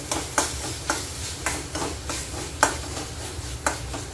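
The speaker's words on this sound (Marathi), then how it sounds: "टोमॅटो पण चांगला परतून घेऊया आपण" Tomatoes sauté in a spiced masala in a pan: a spatula scrapes and stirs in a steady rhythm about every half second over a constant low sizzle, close and moderately loud, with no voices.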